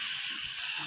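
Cashews fry lightly in oil in a pan, a steady soft sizzling hiss that holds evenly for under a second.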